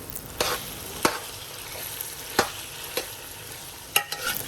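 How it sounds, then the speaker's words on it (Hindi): Chips frying in a home pan beside okra, with a soft continuous sizzle broken by a few sharp stirring scrapes spaced about a second apart, fairly quiet and close. "साथ में दूसरे वाले चिप्स भी फ्राई हो रहे हैं"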